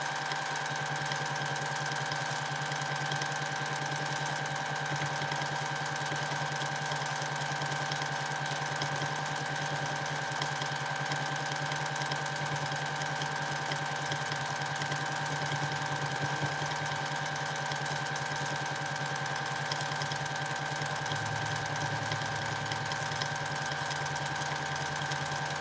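Sewing machine stitching free motion quilting in a van, a steady continuous motor hum with a fast mechanical needle rhythm running without pause throughout, close and fairly loud, with no talking.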